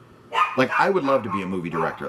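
A dog barks a few times in the background of a home setting, its short yaps half-buried under someone talking steadily in the foreground.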